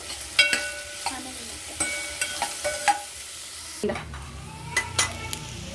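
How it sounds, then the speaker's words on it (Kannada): Onions fry in a pan for tomato rice, a moderate sizzle broken by repeated scraping and clinking strokes of a spoon against the pan, close and without talk. "ಈ ಈರುಳ್ಳಿನ ಚೆನ್ನಾಗಿ ಫ್ರೈ ಮಾಡ್ಕೋಬೇಕು. ಸೊ ಈಗ ನಾವು ಈ ಥರ ಫ್ರೈ ಮಾಡ್ಕೋಬೇಕು."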